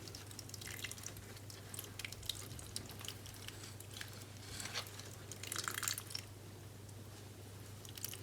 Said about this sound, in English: we are going to water it.